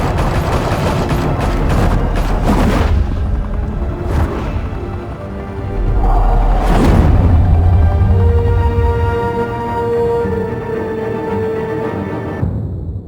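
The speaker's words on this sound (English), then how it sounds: "Open fire!" Gunfire in Batman: The Telltale Series video game erupts in a loud fusillade of rapid shots, followed by a couple of heavy booms and then a fading rumble with a lingering tone.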